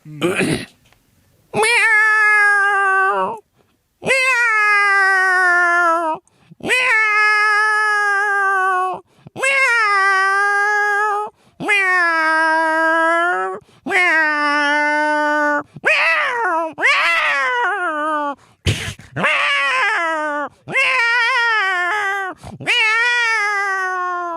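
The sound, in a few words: man imitating a cat meowing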